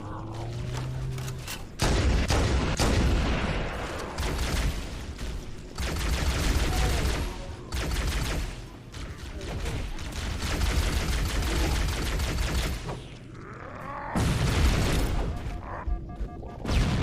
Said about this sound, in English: Grenade just happens to blow up right on top of me